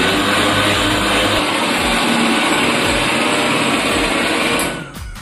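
A kitchen mixer grinder runs at full speed pulverising sugar and biscuits for a homemade cake, a steady loud whirring grind that holds for about four and a half seconds, then winds down and stops.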